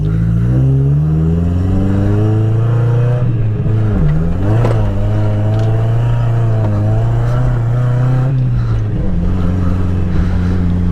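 A Mazda Miata with a cam-equipped engine revs hard while drifting, loud and close from inside the car, its pitch rising and falling through the slides.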